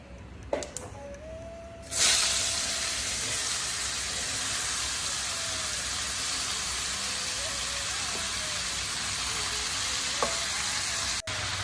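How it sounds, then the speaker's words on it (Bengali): Pieces of ash gourd drop into hot oil with spice tempering and fry with a sudden loud sizzle that settles into a steady, close hiss, with occasional stirring scrapes and a clink. "এবারে এটাকে ভালো করে মেশাচ্ছি তেলের সাথে, ফোড়নের সাথে"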